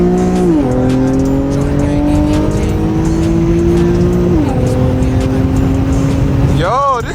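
An Infiniti G37 with a flame tune and ISR single-exit exhaust makes a second-gear pull, its loud engine note rising steadily, dropping briefly at a shift, then climbing again before a squealing rev at the end, with voices inside the car.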